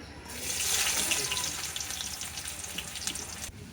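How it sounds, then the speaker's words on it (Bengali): Chopped onion hitting hot oil in a wok-style pan already holding cloves, cardamom, cinnamon and two bay leaves, for khichuri; a bright, steady sizzle rises fast and holds close and fairly loud, with no talk. "এবার দিয়ে দিচ্ছি পেঁয়াজ কুচি"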